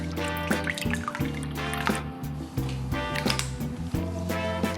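Rice vinegar poured from a one-cup measure into a hot sauce mix of peppers, garlic and water, making soft dripping and trickling sounds with a few light taps, faint under continuous background music.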